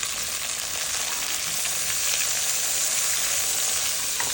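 Chopped vegetables with carrots, pepper and thyme hit a hot pan and fry with a steady, loud, close sizzle that holds unbroken throughout, with no talking.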